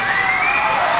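Audience applause and cheering in a broad, steady wash of clapping, loud and continuous for the whole moment with no pauses.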